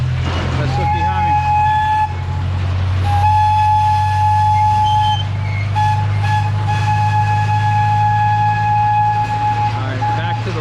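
Amusement park train at DelGrosso's Amusement Park in Tipton rolls by nearby with a continuous low engine rumble and long, steady whistle-like tones held over several seconds.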